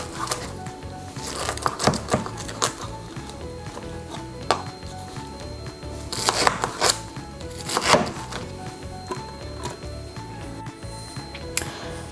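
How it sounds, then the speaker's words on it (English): Knife chopping pineapple and other ingredients on a board for a Ghanaian sobolo hibiscus drink, irregular close taps and thuds with scattered louder chops, steady background hum beneath. "I'm going to chop them into smaller pieces,"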